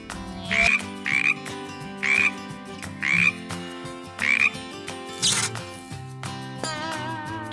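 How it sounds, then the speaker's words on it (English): A frog croaks in a steady series of six or seven short rasping calls, close and clear over a bright musical backing with no talking. "Frog."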